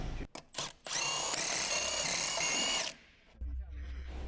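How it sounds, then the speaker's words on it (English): Large impact wrench with an 18mm deep socket and short extension removing lug nuts from a lifted 2013 Jeep Wrangler JK, a loud sustained buzzing burst of about two seconds after a few short taps, then quieter shop noise. "Use a large 18mm deep socket, large short extension, a large impact wrench to remove the lug nuts."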